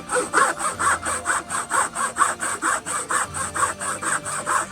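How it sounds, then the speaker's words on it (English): A file worked back and forth across the edge of a timber weatherboard to shape an angle, making a steady run of about sixteen even rasping strokes, close and clear, with no talking. "We're getting a little bit close, so I just file that up now."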